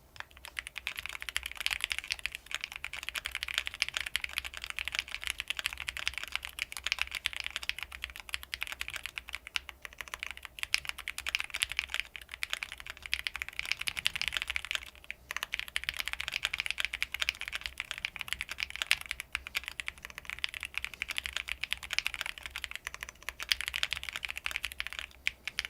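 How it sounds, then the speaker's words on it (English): Rapid, continuous typing on a computer keyboard during a TypeRacer race, dense key clatter sustained throughout with only brief pauses, close and clear. "Oh, we're typing."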